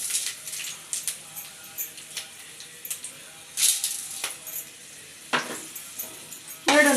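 Chana dal and green chillies fry in hot oil, with a soft continuous sizzle broken by sharp crackles and spits, close and fairly quiet.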